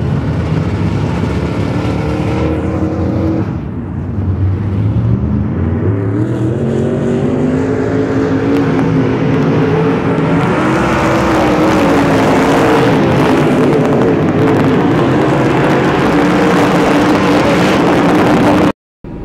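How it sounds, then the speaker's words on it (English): Modified race cars roll around a dirt track to pack down loose dirt, their engines forming a loud, continuous rumbling drone that rises and falls as the cars circle nearby, with no voices. "I think they're having the modifieds roll around, get some of the loose dirt packed back in."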